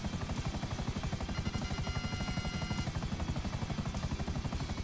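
A helicopter in GTA Online flies low beneath bridges, its rotor making a steady rapid chopping thump with a whining turbine hum, loud and continuous throughout.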